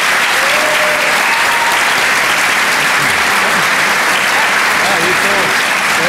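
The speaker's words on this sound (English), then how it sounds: "Can we give them a round of applause?" A panel audience applauds steadily for about six seconds, a dense, loud wash of many clapping hands with scattered voices and cheers mixed in.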